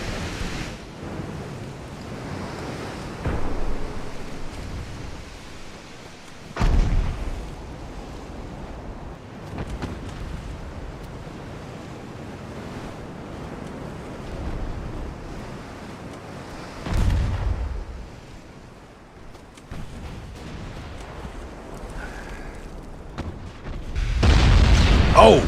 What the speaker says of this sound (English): So do those shots from the battleship.